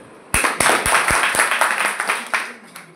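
A crowd at a Modicare business-plan meeting breaks into applause for a woman, with a few sharp, close claps at the start that swell into a lively, sustained round of clapping.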